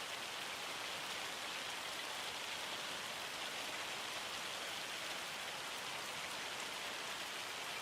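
Steady rain falls in Farming Simulator 25, a continuous even hiss of drops on surfaces that holds at a constant level throughout with no talk or other sounds.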